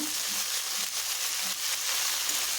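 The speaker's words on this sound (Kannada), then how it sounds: "ಇಲ್ಲಿ ಸೊಪ್ಪನ್ನು ಉರಿತಾ ಇದ್ದೀವಿ" Fenugreek leaves and garlic frying in a pan for a methi garlic curry, giving a steady, close hiss and sizzle throughout with faint stirring.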